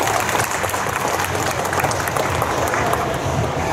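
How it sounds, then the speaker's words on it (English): Loud, close crowd applause at a Comic Con Holland Q&A panel: vigorous, sustained clapping from a packed audience, with a few cheers mixed in and no letup. "I think a round of applause for everybody here."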